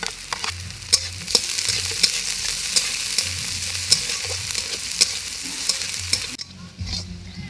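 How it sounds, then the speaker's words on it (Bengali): Chopped onion, garlic, ginger and green chili fry in hot oil with a continuous close sizzle, punctuated by regular scraping knocks of a spatula against the pan before a brief quieter moment. "আদা, পেঁয়াজ আর রসুনটা হালকা ভাজা করতে হবে, বেশি ভাজলে হবে না।"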